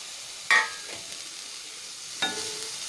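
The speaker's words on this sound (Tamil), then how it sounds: "இது வதங்கிட்டே இருக்குது" Onion, ginger, garlic and tomatoes sautéing in a pan give a low, steady hiss, with two sharp scrapes of a spoon against the pan early and late in the stretch.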